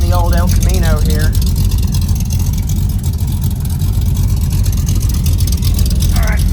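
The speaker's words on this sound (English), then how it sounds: "Got a little gas run in the old El Camino here." Old Chevrolet El Camino on the road, a loud, steady engine rumble and road noise heard from inside, with people talking over it.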